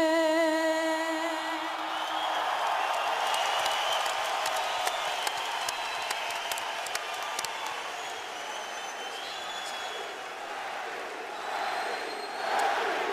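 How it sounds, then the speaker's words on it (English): Boxing arena crowd at a Manny Pacquiao vs David Diaz fight, roaring, cheering and chanting in a loud, sustained wash with sharp whoops and claps, a lone sung note fading at the start. "The crowd chants for their man."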